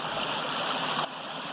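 Water flowing steadily out of a hillside near a cave, a continuous close rushing and gurgling wash with no break, dropping slightly in level near the end.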